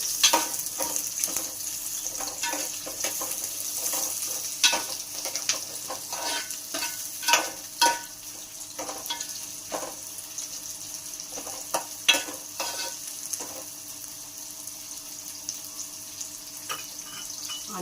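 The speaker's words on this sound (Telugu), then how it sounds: "ఆనియన్స్ వేయించి పెట్టుకుంటాం ఫ్రెండ్స్ ఆనియన్స్ వేయించుకుందాం" Onions frying in a pan for an ivy gourd masala curry, a constant bright sizzle broken by repeated clacks and scrapes of a spoon stirring, with a few louder knocks against the pan.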